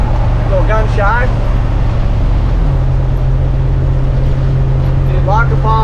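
A Winnebago motorhome cruises in fourth gear on a freeway, giving a loud, steady low engine drone that shifts slightly in pitch partway through, while someone talks over it.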